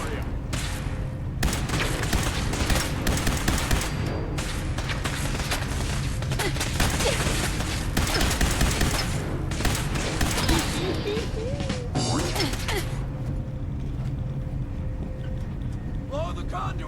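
Gunfire from a player's gun in Fallout 4, a busy stretch of repeated shots and impacts mixed with wind-like rumble and game noise, with bursts coming and going over time.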